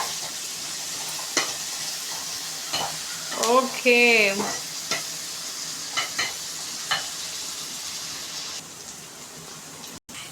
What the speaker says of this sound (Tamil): ஸோ ஊற வச்ச சோயாவை இப்போ போட்டுக்கலாம்.